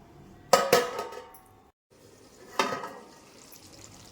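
A spoon stirs an eggplant and tomato curry simmering in a pan, giving two bursts of scraping and clanking. A quiet sizzle runs between the bursts and there is no talking.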